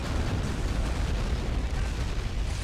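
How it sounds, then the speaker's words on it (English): Loud, dense rocket explosions and rumbling blasts roll on without a break in the Cold War 1975 mod of the video game Men of War, with no voices. "Shoot some of these rockets."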